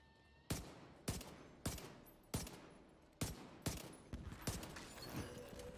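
Enemy gunfire in The Division 2 cracks out in a steady series of about nine sharp shots, evenly spaced at first, then quicker and softer toward the end, with a faint ringing tail after each report.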